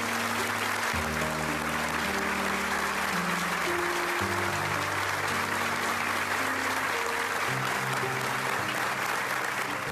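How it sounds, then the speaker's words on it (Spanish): Dense, sustained applause fills a full minute of tribute at a state funeral for a former mayor of Piedras Negras. Steady low tones run beneath the continuous clapping, and no voices stand out. "dieron un minuto de aplausos a su memoria."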